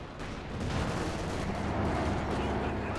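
Stick bomb blast on a mortar position in the Company of Heroes strategy game, a dense, loud rumbling explosion that fills the clip with sustained low roar.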